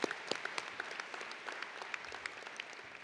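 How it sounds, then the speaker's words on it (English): A crowd at a high school commencement ceremony applauds the graduates' families, a soft, distant, continuous patter of clapping with a few louder individual claps. "Let's all give them a round of applause"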